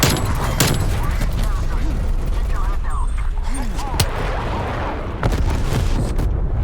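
Explosions and dense rapid gunfire from a first-person shooter game fill the whole stretch loudly and without a break, while players talk over the battle.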